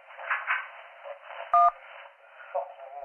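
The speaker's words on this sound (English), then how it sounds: "If you can't talk, please press any digit on your phone" A single short phone keypad digit tone beeps midway through a muffled, band-limited line in the 911 Operator video game, with faint radio-like chatter and murmuring in the background.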